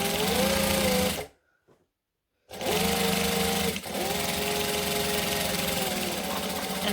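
A sewing machine stitches a hoodie seam in a fast, buzzing mechanical run, close and loud. It stops fully for over a second, then restarts, with a brief hitch before it runs on steadily.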